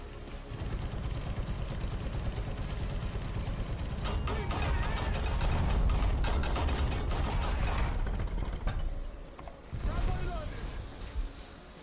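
Tank cannon and machine-gun fire in a War Thunder battle: a dense, continuous roar of shots and mechanical clatter, loudest mid-clip, briefly dropping out near the end before resuming.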